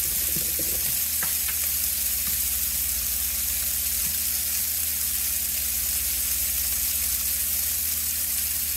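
Minced garlic frying in rendered fat gives a loud, dense, continuous sizzle up close, with a few light utensil taps near the start.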